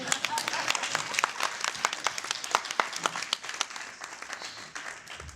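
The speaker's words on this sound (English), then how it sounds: "So that's probably deserves a round of applause from everyone." Wedding guests give the groom a round of applause, dense quick claps from a room full of people, moderately loud and steady, then thinning toward the end.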